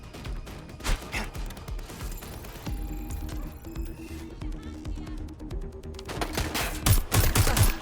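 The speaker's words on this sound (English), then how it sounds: "I'm taking fire!" Gunfire from the video game Watch Dogs: Legion, with rapid bursts of shots and crashes running throughout amid game music and effects, loud and busy, with a voice heard briefly.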